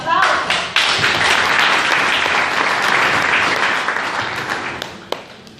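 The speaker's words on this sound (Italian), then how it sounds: "Un applauso." Applause from an audience at an Italian book presentation welcoming a speaker, a dense, steady clapping that fills the room and fades slightly near the end, with a few sharper claps standing out.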